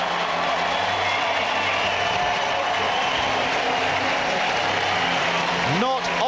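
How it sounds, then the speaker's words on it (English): A large crowd on Centre Court at the London 2012 Olympic tennis cheers and applauds steadily for Andy Murray's entrance, a dense continuous roar throughout, with a brief rising whistle near the end. "Not often Andy Murray gets a bigger cheer than Roger Federer"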